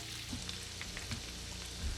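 Garlic sizzles in a pan for shrimp scampi, a steady close frying hiss broken by a few soft stirring scrapes.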